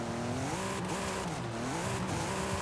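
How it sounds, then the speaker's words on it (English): In Forza Horizon 5, a tuned car's engine drones loudly and continuously, its pitch rising and dipping through repeated revs and gear changes, with no voices over it. "This is like one of the worst sounding cars in this game."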